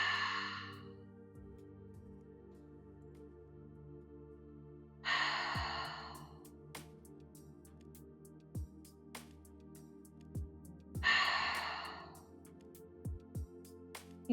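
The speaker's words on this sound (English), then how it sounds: "Deep inhale through the nose, exhale through the mouth." Deep, slow breaths drawn in through the nose and released through the mouth. Three separate airy breath bursts come through, with quiet pauses between them, close and soft over a faint steady background, with no talking.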